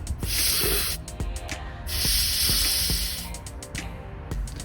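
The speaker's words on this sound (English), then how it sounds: "make sure you release the excess propane in the adapter" Leftover propane bursts out of a refill adapter used to fill a 1 lb refillable tank from a 20 lb tank, in two loud, close hissing sprays with short clicks between them.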